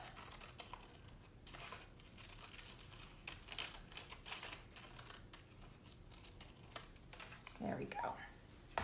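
Scissors snip around paper shapes for a children's art project, a run of faint irregular crisp cuts and light paper rustles at close range, a little louder near the end.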